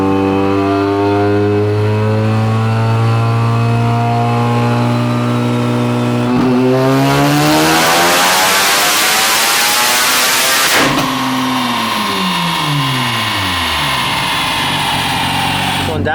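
A turbocharged rotary engine car runs on a dyno, rising from a steady drone into a loud, sweeping rev up through third gear, peaking sharply, then dropping back and winding down as the pull ends.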